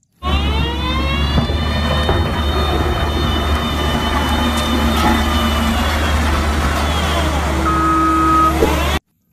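A toy road roller truck gives off a steady electronic beeping tone with a low engine-like drone underneath, loud and continuous until it cuts off at the end.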